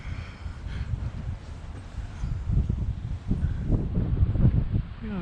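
Gusty wind buffets the microphone on an outdoor Christmas walk in Cumbria, a steady low rumble swelling into stronger, louder gusts in the second half.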